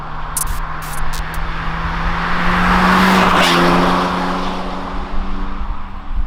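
A 2021 Hyundai Elantra N-line accelerates hard, its engine droning and rising in pitch with a loud broadband roar and tire noise, close and sustained.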